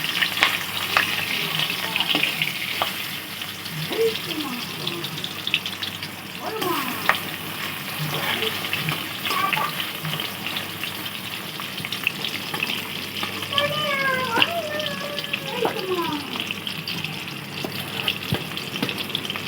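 Katla fish sizzles and spits in hot oil in a home kitchen, a continuous close crackle with occasional stirring scrapes and a few faint chirps in the background.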